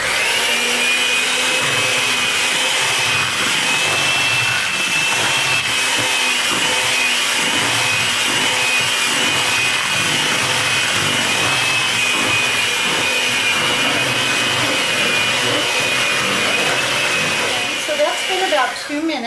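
An electric mixer whirs loudly and steadily up close as it beats cake batter with mandarin oranges in a bowl, a continuous motor drone lasting the whole stretch with only a slight dip at the end.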